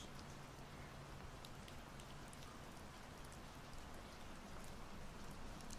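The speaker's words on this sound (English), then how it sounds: "Just watching the rain fall down from above." Steady rain falls in the woods outside a log cabin, a soft, even hiss of drops on surfaces with no pauses, heard alone at low volume.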